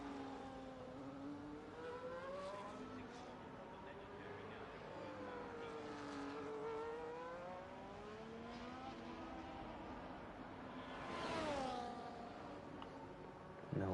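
Race car engine on a flying lap around a circuit in Spain in a racing video game, the pitch sweeping up and down steadily through gear changes and corners, fairly loud and continuous with a brief surge near the end.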